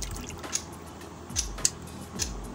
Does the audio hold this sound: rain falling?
no